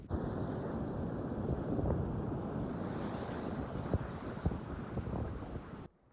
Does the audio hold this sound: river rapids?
yes